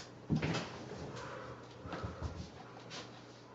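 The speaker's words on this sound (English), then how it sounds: "No, close the door." A wooden door in the Terraria game closes with a short knock and thud, followed by faint clattering in-game effects.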